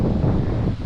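A breezy wind buffets the microphone at a lakeside campsite at Fort Cobb Lake, a short, dense low rumble with no voices.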